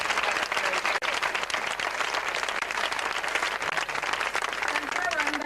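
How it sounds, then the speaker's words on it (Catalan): Sustained crowd applause at the 2009 patronal festival in Benigànim, a continuous wash of clapping with voices mixed in beneath it. "Des d'ací demanem un fort aplaudiment per als pares i mares dels festers."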